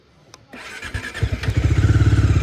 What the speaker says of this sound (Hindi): सबसे पहले आप इस बाइक का एक बार एग्जॉस्ट साउंड चेकआउट करो।